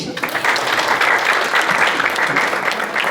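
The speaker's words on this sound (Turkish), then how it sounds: "Hüseyin'e de bir alkış." Applause for a guest doctor at a hotel speaking event: a short, loud burst of close, dense clapping from a room audience, steady throughout with no voices over it.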